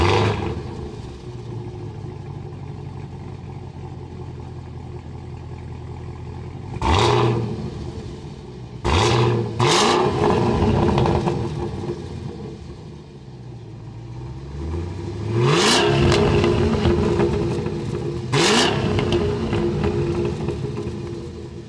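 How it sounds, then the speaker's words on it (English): A Cadillac CT5-V Blackwing's engine revs hard through its quad exhaust outlets in several loud bursts, rising and falling over a steady idle rumble, with no talking. "quad exhaust outlets pumping out some of the best exhaust noises I have ever"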